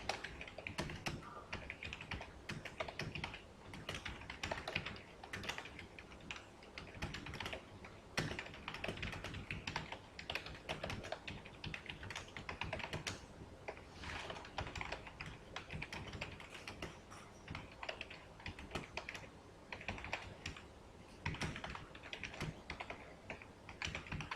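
Steady typing on a computer keyboard, a long run of rapid, close, fairly quiet key clicks with brief pauses between bursts and no talking.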